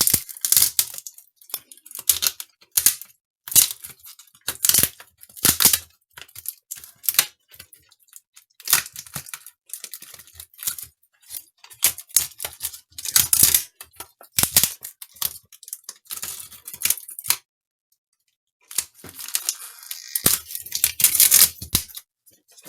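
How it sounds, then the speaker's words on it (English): A protective membrane is peeled off an HP Envy x360 15-bp007na laptop keyboard during a replacement, giving repeated close crackling, tearing and plasticky rustling bursts separated by brief pauses. "I'm just going to take this membrane off"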